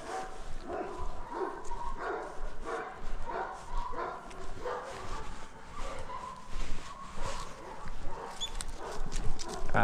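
A dog barks and yips repeatedly at a moderate distance in an outdoor setting, the barks coming in irregular bursts over steady background noise, with a few whimpering sounds mixed in.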